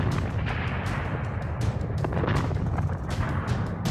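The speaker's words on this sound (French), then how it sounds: "On a senti comme un genre d'explosion à l'intérieur de la mine" A dramatised, explosion-like rumble inside the Copiapó copper mine during a massive rock collapse: a continuous, heavy, deep roar with crackling bursts, loud and steady throughout.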